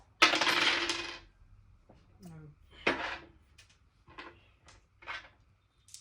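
Dice roll and clatter on a Jamaican Ludo board during a family game, a louder burst of rattling followed by several short, separate clicks and taps, with a brief voice in between.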